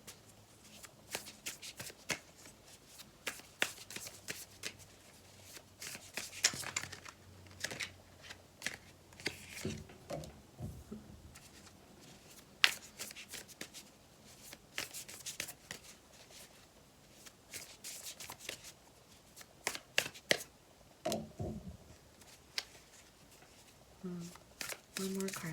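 Tarot cards shuffled by hand in repeated quick riffling bursts with short pauses between them, close up, with occasional speech in between.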